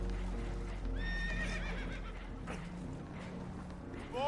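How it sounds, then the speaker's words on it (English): Spooked horses in the Red Dead Redemption 2 video game, aboard a damaged boat, whinny in a couple of shrill, wavering neighs over a dense bed of rumbling noise and clip-clopping hooves. "Horses are spooked"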